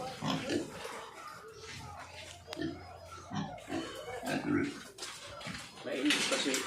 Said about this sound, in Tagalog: ang daming mo namang baboy